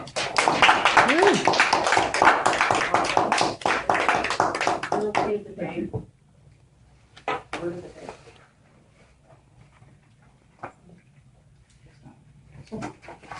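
An audience applauds to welcome speaker Don Wilson, dense loud clapping for about six seconds that stops abruptly, followed by faint scattered taps and room noise.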